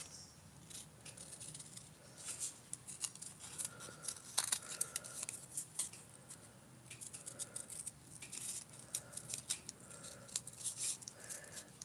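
Newly bought scissors cut during glass-craft work, making a quiet, irregular series of crisp snips and small rattles spread over several seconds, with no talk.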